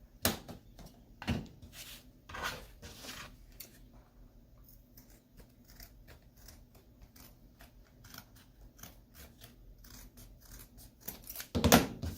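Scissors trim the edges of heat-transfer vinyl with a string of quiet, close snips and clicks at an uneven pace, a few louder cuts standing out and no voices.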